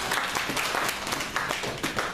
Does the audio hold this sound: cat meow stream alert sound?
no